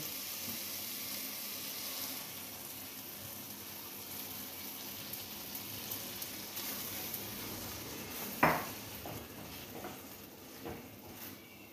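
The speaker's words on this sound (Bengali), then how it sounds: "এবার সিদ্ধ করা ডালটা আমি এর মধ্যে ঢেলে দেব" Boiled mung dal is poured into a hot pan with fish head, setting off a steady close sizzle, with one sharp splash and clatter partway through.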